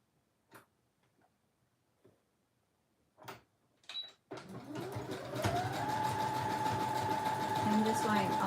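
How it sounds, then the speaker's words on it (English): An embroidery sewing machine runs a zigzag stitch on an in-the-hoop zipper bag, starting after a few soft taps and clicks with a steady, close mechanical whir that holds to the end. "I'm going to change this up to a zigzag stitch."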